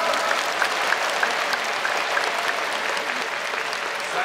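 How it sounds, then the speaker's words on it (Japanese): A stadium crowd applauds mascot BB of the Hokkaido Nippon-Ham Fighters at a mascot contest in the Sapporo Dome, a steady, dense wash of clapping that holds at even loudness throughout. "BB君に大きな拍手を"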